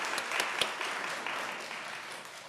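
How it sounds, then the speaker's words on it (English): An audience at a Bastrop city council meeting applauds for expanding local businesses, a continuous wash of clapping hands with a few sharper claps near the start, tapering slightly as it goes. "let's have a round of applause for expanding businesses in Bastrop"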